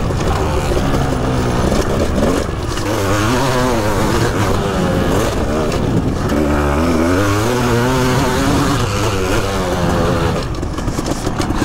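A 1988 Yamaha 500 YZM factory prototype motorcycle being ridden, its two-stroke engine loud and close, revving up and down through gears in rising and falling sweeps throughout.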